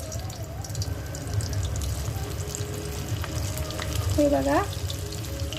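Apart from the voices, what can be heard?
fish frying in oil on low flame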